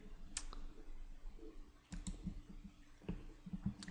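A computer mouse clicks quietly, a few times in spaced pairs and singles over faint background hiss, with no voice heard.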